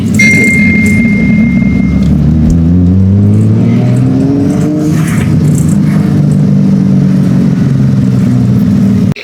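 A BMW E36 M3 engine drones loudly from inside the car on a test drive, its pitch rising and falling through gear changes in a steady, close rumble.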